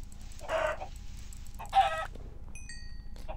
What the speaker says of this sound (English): I hear another chicken.